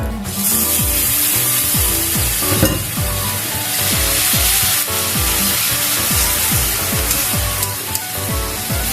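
Onion fried until reddish with tomato paste added, cooking for a Bengali colocasia and prawn curry, sizzles loudly and steadily in the pan while a utensil stirs and scrapes in a repeated rhythm.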